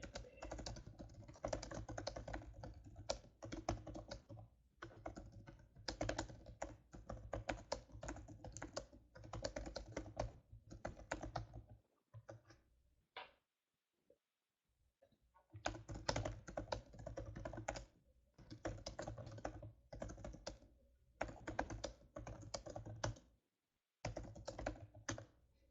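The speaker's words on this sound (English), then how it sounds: "Let me type that in here" Steady typing on a computer keyboard during an online class session, dense bursts of keystrokes with a few brief pauses, close and clear with no talking.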